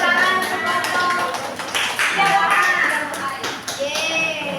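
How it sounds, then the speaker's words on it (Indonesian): Schoolchildren in a classroom perform a clapping chant, rhythmic hand claps and taps mixed with excited young voices talking and calling out, loud and close. "Tepuk tangan sepotong."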